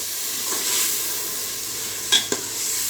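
Peeled tomatoes frying in masala for chicken korma, a steady soft sizzle running throughout with two brief sharp clinks of a spoon near the end.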